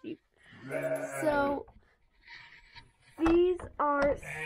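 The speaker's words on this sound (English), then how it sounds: "these are some of the sheep." Sheep bleat loudly and close by, one long wavering call and then two shorter ones, with quieter farm sounds between them.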